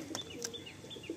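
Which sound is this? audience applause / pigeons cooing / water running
pigeons cooing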